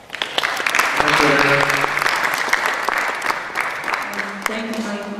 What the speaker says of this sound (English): Mike, the board, and you guys deserve a wonderful round of applause.